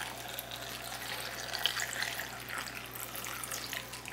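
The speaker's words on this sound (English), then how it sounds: "Last but not least, some water. It doesn't matter how much because you're just filling it up until you get the water surface up above your fruit" Tap water pours steadily into a crockpot over apples, a continuous close splashing rush with a faint low hum beneath and no talking.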